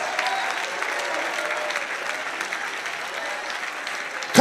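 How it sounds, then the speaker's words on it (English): A church congregation claps continuously during worship, a steady wash of many hands at even loudness, with a voice breaking in right at the end. "I wish somebody would clap their hands if you believe it"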